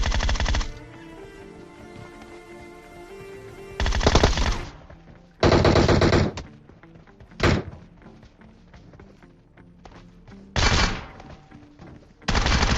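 Gunfire in a battle royale video game, with several loud bursts of rapid automatic fire lasting about a second each, separated by quieter stretches of background game sound and scattered single shots.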